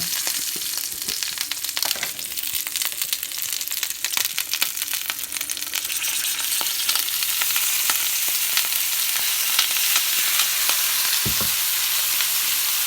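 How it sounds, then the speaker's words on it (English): Pork chops frying in hot oil with garlic, a loud steady sizzle filling the whole stretch up close, with occasional stirring clicks and pan knocks and no talking. "while they're cooking in here in this hot oil"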